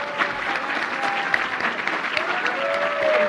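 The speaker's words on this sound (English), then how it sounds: "Give her a great round of applause," Audience at WordCamp US 2018 giving a round of applause for a first-time speaker, with dense, sustained clapping filling the room at an even level and a few voices mixed in.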